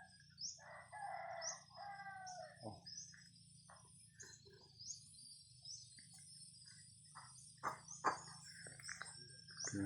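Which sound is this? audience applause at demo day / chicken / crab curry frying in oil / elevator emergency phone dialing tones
chicken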